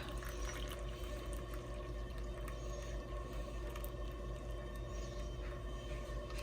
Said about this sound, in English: we're going to pour 1 cup of the cream mixture into a measuring cup